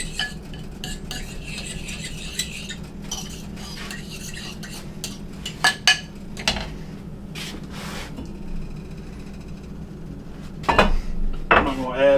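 A spoon stirs a cornstarch and water mixture in a small cup, making soft scraping and clinking against the sides, with a low kitchen hum and occasional louder knocks near the end.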